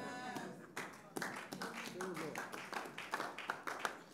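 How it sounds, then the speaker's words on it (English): A church congregation claps in short bursts of irregular hand claps at moderate volume, mixed with crowd voices and background talk. "The Christians are clapping."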